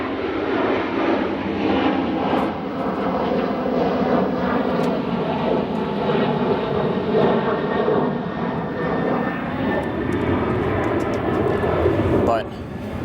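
Airliner arriving at Chicago O'Hare airport, a loud, steady jet engine roar that holds for about twelve seconds and then drops off sharply near the end, with commentary talk running over it.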